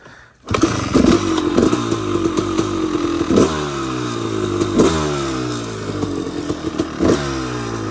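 Honda CR250R two-stroke dirt bike engine starting up and running, a close, loud, buzzy idle with repeated sharp throttle blips and revs over a rattling clatter.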